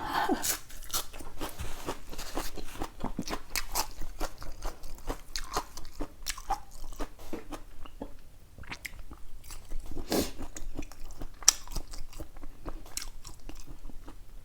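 A woman eating simple homemade food, with close crunchy bites and chewing in an irregular rhythm, no talking.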